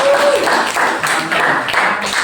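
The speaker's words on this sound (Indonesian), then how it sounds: "tepuk tangan dulu untuk" Students in a classroom clap in a short burst. The applause comes through as a close, fairly loud patter of several hands, with rhythmic peaks, and fades a little over about two seconds.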